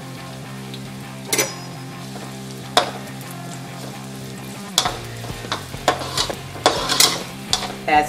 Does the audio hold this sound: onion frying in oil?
yes